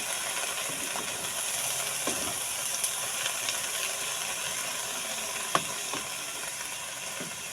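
Sliced pechay and vegetables frying in a pan while being stirred, steady moderate sizzle with occasional scraping and clinks of a utensil against the pan.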